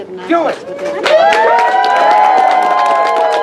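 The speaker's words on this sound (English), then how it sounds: "We're going to give a nice round of applause." A crowd cheers and applauds outdoors at a WW II Weekend USO show on the parade grounds of historic Fort Snelling, Minnesota, with loud whoops and shouts rising over steady clapping after a brief lull.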